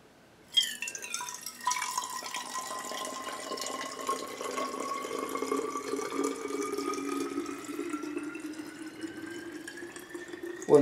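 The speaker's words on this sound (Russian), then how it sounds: "Так, вот это у меня вода. Давайте мы ее сейчас куда-нибудь сольем." Water pours steadily from a plastic water bottle into a container, a continuous trickling stream with a rising gurgle as it fills, fairly close and quiet, with no talking.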